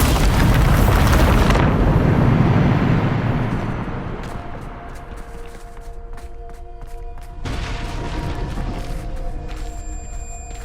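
Loud Bombarda explosion spell from Hogwarts Legacy: a heavy, broadband boom that bursts at once, then rumbles and fades over several seconds, with a second smaller blast later on.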